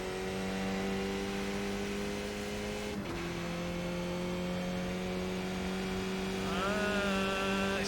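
A race car engine in the iRacing simulator drones at a steady pitch, dips briefly as a gear shifts, then climbs again in a rising rev toward the end, with no voices over it.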